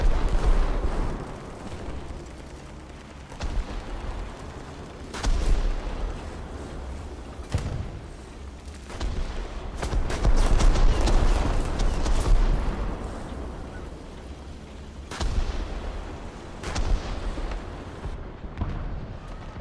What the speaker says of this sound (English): Just put some artillery on them.